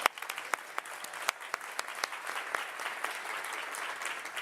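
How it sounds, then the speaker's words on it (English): Applause from a conference audience during a plenary session, a dense run of many clapping hands with sharp individual claps up front, steady and moderately loud throughout, no voices over it. "So let's give her another round of applause."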